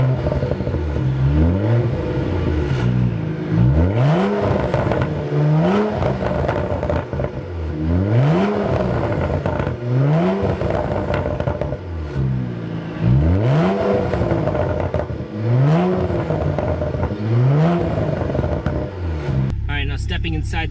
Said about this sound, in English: Down at the bottom, you got these big quad exhausts